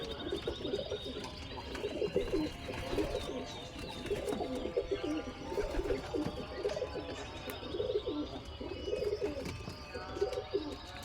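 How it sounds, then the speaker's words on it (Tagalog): Pigeons cooing near a house, a flock heard from a short distance in soft repeated low coos forming a steady rhythmic pattern, with faint higher chirps mixed in and no talking. "Ayan yung mga kalapati."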